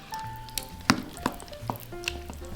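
Garlic and ground meat sizzle in a pan for baked ziti while being stirred, a soft continuous frying crackle broken by a few sharper scrapes and clacks of the utensil, close and fairly quiet, with no talking.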